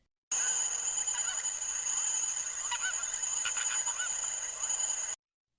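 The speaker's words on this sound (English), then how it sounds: "That's a flamingo." A recorded flamingo call played back for a bird-sound quiz: a steady, dense chorus of honking, goose-like calls with a few sharper cries standing out, continuous and fairly loud throughout with no talking.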